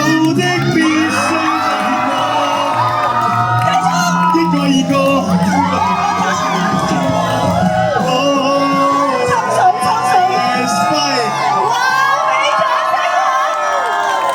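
A crowd at a Halloween festival stage show cheers, shouts and claps, a loud, continuous roar over music and excited voices throughout.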